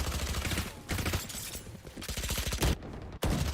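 Rapid gunfire in the tactical shooter Valorant, heard at a LAN tournament match: dense bursts of automatic shots and sharp single cracks fill the clip, loud and close, with a brief gap near the end before firing resumes.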